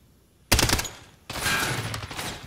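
Two loud bursts of rapid gunfire from a first-person shooter video game, the first sharp and short, the second a longer sustained rattle, with no talking.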